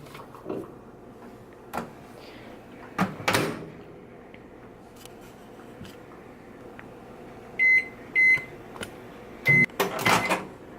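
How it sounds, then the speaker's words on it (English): Door clunks and handling knocks, then a series of short electronic beeps from a microwave keypad, fairly close in a quiet room. "we're going to stick it in the microwave,"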